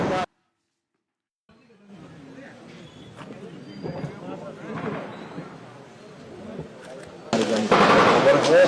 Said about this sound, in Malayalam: ഇപ്പോൾ വെടിവെച്ചയുടെ ശബ്ദം കേൾക്കുന്നു.